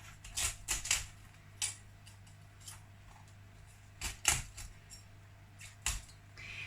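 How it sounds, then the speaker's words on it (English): Knife cutting leaves off a cauliflower on a board, a handful of sharp, crisp snaps and clicks in irregular bursts over a low steady hum, fairly quiet and close. "there's more to take off here. So I'm going to just cut them off"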